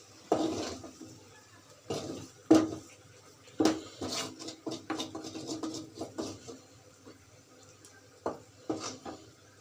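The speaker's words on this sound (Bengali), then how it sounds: "এখন আবার এটা একটু হালকা নাড়িয়ে আবার নামিয়ে নেব" Cooked noodles with coriander leaves being stirred in a pan, heard as a series of uneven metallic scrapes and clinks of utensil against pan, close and intermittent over a quiet background.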